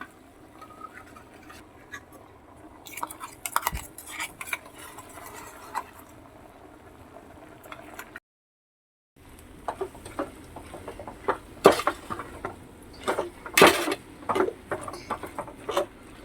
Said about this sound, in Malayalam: അരപ്പും കാര്യങ്ങളൊക്കെ ഇട്ട് നമ്മൾ ഇളക്കുകയാണ്.